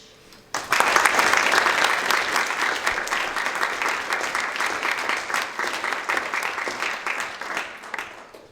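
A crowd at a press event applauds steadily and loudly for several seconds, dense clapping starting abruptly and holding even until it fades at the end.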